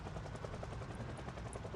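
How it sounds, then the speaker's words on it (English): A helicopter in the video game Project Zomboid drones overhead, a steady rhythmic rotor thump with constant whine, moderately loud and continuous with no talk. "Stupid helicopter. Leave me alone."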